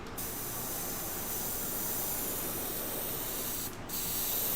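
A continuous airy hiss of an airbrush spraying pigment powder nearby, steady and soft, with a brief dip near the end before it resumes.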